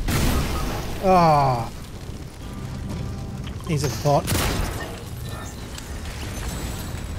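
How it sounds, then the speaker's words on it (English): An explosive barrel blows up in Fortnite, a sharp broadband boom in the middle of game noise, followed by another burst, while a player exclaims and talks over the action. "The bloody barrel explosion got me."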